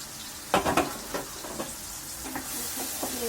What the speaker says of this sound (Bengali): আমি এখন আবার সুন্দর করে নাড়া দিয়ে দেবো।